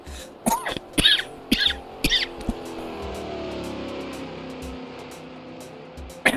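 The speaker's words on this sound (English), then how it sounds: "Still coughing." A person nearby coughs repeatedly in a burst of harsh, throaty coughs over a low, steady engine hum from a sim-racing session, then goes quiet before one last short cough.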